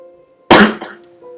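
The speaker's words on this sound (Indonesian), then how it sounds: "Maaf ya, saya sedikit batuk" A single sharp cough bursts out abruptly, loud and close, briefly cutting through a quiet room hum before fading back to the steady background tone.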